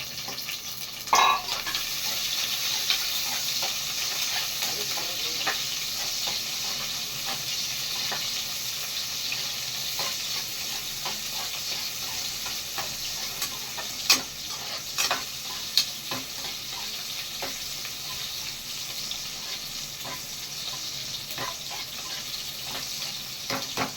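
Small onions sizzle steadily in a pan for a village-style chicken curry, with a constant close frying hiss and occasional sharp clicks and spatters from stirring throughout.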